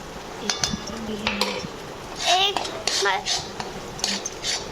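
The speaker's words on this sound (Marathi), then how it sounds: "परत ढवलू." Metal spoon clinking and scraping against a pot while soybean rice with spices is stirred, giving irregular close taps and scrapes with a faint voice in the background.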